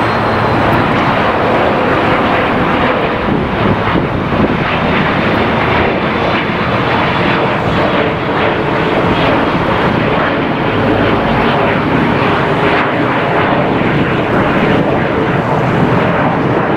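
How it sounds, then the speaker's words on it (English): A jet airliner roars loudly through a takeoff or landing at LAX, a steady, dense broadband rumble that holds close and strong for the whole stretch with no voices over it. "We'll shoot a few more videos of takeoffs and landings."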